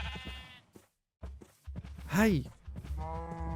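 A sheep in the video game Minecraft lets out a single short, wavering bleat in the middle of the clip, with someone talking before and after it.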